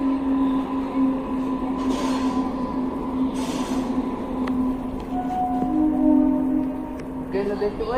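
A passenger train passes near ducks and a jackfruit tree, giving a steady rumbling drone with a low sustained tone and some rising screech near the end, under ongoing talk.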